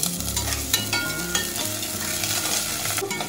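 Cumin seeds, green peas and beans fry lightly in a pan for a simple vegetable rice, a continuous dense sizzle with soft scraping stirs and small knocks throughout, no voices.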